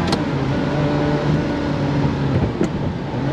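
A 1992 Ferrari 348 sports car on the road, its engine a steady loud drone with road and wind noise heard from inside the cabin, continuous with a brief thump near the end.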